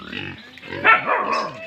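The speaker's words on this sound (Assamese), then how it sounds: "এয়া গাহৰি" Pigs on a small pig farm grunt and squeal close by in a short, lively burst, with the sounds rising and falling quickly.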